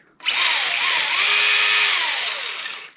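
A Schumacher Mi1 RC car drivetrain running after an overhaul, with a slight bind at one point of the spur gear: a close, loud, high-pitched electric motor and gear whine that revs up and holds for about three seconds before easing off.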